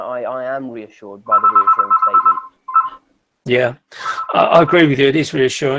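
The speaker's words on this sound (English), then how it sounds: "Excuse the phone ringing just for a second" A telephone rings in short, repeated tonal bursts between stretches of a person talking. The ring is clear and fairly loud, starting after the first sentence and pausing before the talking resumes.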